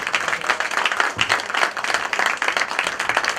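Dense applause from an audience at a KTM MotoGP press conference in Malaysia, steady and fairly loud clapping throughout the short stretch with no talking over it.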